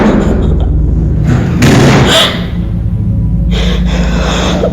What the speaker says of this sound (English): several more banging noises echo through the house, seemingly coming from behind her